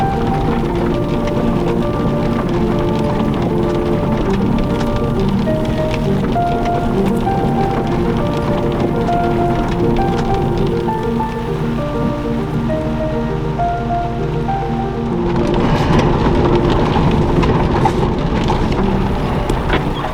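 Heavy desert rainstorm pours down steadily and loudly throughout, a dense continuous roar of drops, growing even stronger toward the end.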